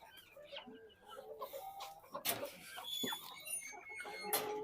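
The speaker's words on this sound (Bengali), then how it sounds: "এই খাঁচায় আছে ব্ল্যাক টেল বেনথাম মুরগ" Black tail Bantam chickens in a cage on a fancy poultry farm in Savar, giving soft clucks and chirpy calls at close range mixed with some background noise, with a faint voice now and then.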